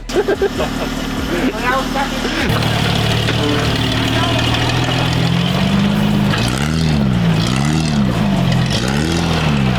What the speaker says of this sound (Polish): O, i to jest dźwięk należyty w Patrolu.